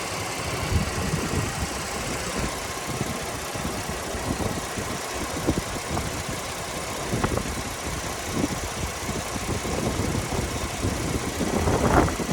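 The engine of a 2010 Lincoln MKX idles steadily, a low even rumble under a broad noisy hiss with a few small bumps, no talking heard.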